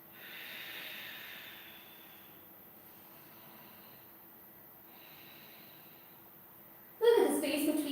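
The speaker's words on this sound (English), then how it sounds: "We call this Ujjayi breathing in yoga." Slow, steady ujjayi breaths during a live yoga session, a soft ocean-like hiss swelling and fading through two long exhalations, followed by a louder burst of noise at the end.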